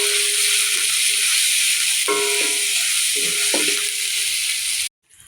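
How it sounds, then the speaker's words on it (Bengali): Garlic and onion paste sizzles in hot oil, a bright continuous hiss with a few light clinks of stirring midway, then a sudden stop near the end. "তো রসুন আর পেঁয়াজটা আমি একটু হালকা ভেজে নেব।"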